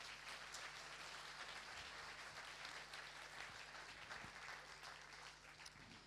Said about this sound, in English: Let's applaud again.